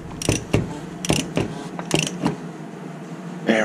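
A ratchet tightening the oil filter housing on a 2015 Toyota RAV4, giving several close, quick bursts of clicking pawl notches separated by short pauses.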